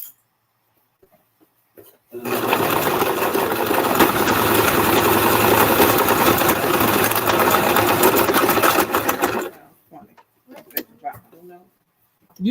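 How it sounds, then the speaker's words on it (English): A sewing machine stitching a fabric wine tote bag runs steadily for about seven seconds with a fast, even mechanical whir, then stops, leaving quiet handling clicks and brief fabric sounds. "there I go once again, sewing over the needle"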